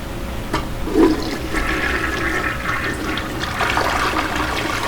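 A toilet flushing inside the Heavy Rain video game, a steady rushing swirl of water that lasts the whole stretch at moderate loudness, with a brief gurgle near the start and no talk over it.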